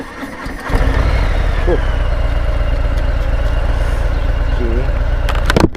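A Harley-Davidson Fat Boy motorcycle fires up close and loud, then settles into a deep, steady idle. A voice gives a short exclamation over it.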